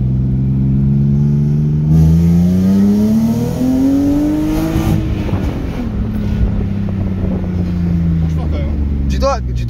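Car engine on a swapped project car rising in pitch after a gear change, holding revs then falling away, with wind buffeting and someone talking over it.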